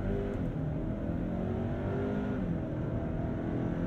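A 2022 Hyundai Santa Cruz pickup's engine revs up as it accelerates from 0 to 60 mph, a steady droning rise heard from inside the cab with rising tones between automatic gear shifts.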